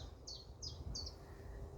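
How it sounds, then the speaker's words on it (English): Birds singing in trees in a quiet spot at Dawley, Telford: three short, bright chirps in quick succession, fairly distant and faint over a low background hum. "the birds in the trees"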